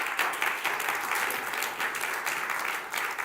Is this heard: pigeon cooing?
no